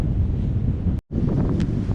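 Breezy, choppy shoreline on Martha's Vineyard, with steady wind buffeting the microphone over rolling surf, loud and continuous apart from a brief dropout midway.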